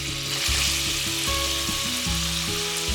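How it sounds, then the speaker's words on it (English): Onions frying in a pan alongside sausage for a bean stew make a loud, steady sizzle, and a low rhythmic droning hum pulses beneath it throughout. "Now I'm going to add the onions and let them"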